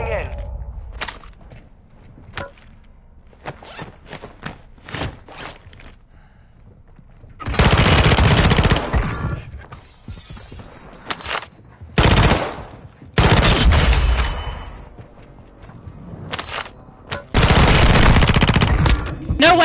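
Loud bursts of automatic gunfire in a first-person shooter match, several dense broadband volleys with quieter stretches of footsteps and scattered single shots between, speech heard faintly under the action.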